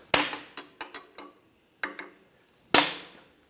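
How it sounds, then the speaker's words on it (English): Seven sharp metallic hammer strikes on a suspension bushing tool, pressing a rear trailing arm bushing on a Ford Focus, close and ringing, in an uneven rhythm with a pause before the final, hardest blow. "I'm going to take a hammer, place it here."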